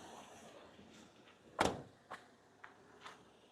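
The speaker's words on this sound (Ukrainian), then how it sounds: "А дверки закрилися." A single sharp thud of the sliding door of a 2012 Renault Trafic van slamming shut, followed by a few fainter clicks and knocks in a quiet space.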